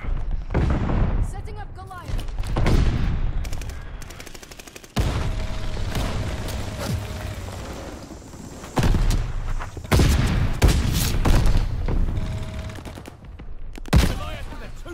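A Goliath explosive detonating in the Call of Duty Vanguard video game, with sharp blasts amid bursts of heavy gunfire and chaotic battle noise, while a voice talks over the action.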